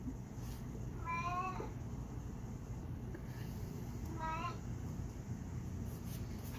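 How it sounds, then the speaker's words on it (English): A cat meows twice to be let in, two separate drawn-out cries a few seconds apart, set against a steady low background hum with no talking. "Damn cat."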